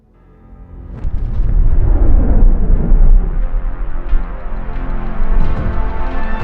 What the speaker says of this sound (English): an explosive event that came to be known as the Big Bang